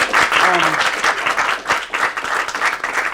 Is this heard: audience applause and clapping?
yes